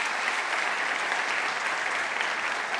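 Audience applause at a short film competition award ceremony, a steady, even wash of many hands clapping at moderate distance, with no voices over it.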